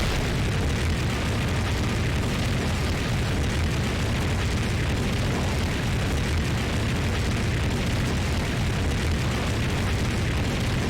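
A dense, roaring blast of fire rushes on steadily with no break, like a sustained fire attack in the Bloodstained: Ritual of the Night game on Switch, loud throughout.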